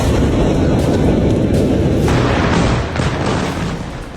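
Bunker buster bombs exploding in Beirut, heard as a loud, sustained roar of blasts with a few sharp bursts layered on top before the rumble gradually fades.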